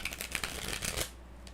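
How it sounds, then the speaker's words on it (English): Tarot cards are shuffled close by in quick riffling bursts of dense papery flicks and slaps lasting about a second, then the sound falls quiet. "Just bear with me as I shuffle a little further."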